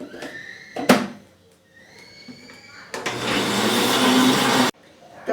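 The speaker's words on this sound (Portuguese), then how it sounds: "Então, eu já bati tudo no liquidificador." After a few clatters and knocks in a kitchen, a blender whirs loudly for nearly two seconds as it mixes ingredients for a pudding cake (bolo pudim), then cuts off abruptly.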